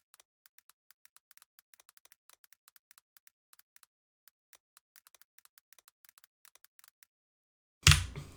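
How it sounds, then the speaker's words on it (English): Light, irregular keystrokes tap on a computer keyboard for about seven seconds, quiet and close, before a brief loud burst of noise at the end. "so you don't hear my keyboard smashing"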